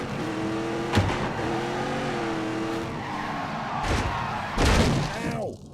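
Car engine at full throttle in The Grand Tour racing video game, a loud steady high-pitched roar with shifting pitch, tire squeal and skidding, and sharp impact bursts near the end.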